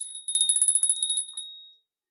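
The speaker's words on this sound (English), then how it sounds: "I'm gonna ring my bell." A small hand bell is shaken quickly, giving a bright run of about a dozen rapid metallic rings, close and clear, before it fades into silence.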